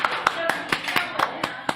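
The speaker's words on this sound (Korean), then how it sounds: "박수! 아 박수" Sharp, separate claps, about eight of them in a slightly uneven rhythm, close and clear, celebrating a milestone of 12,000 views; a voice speaks between the claps.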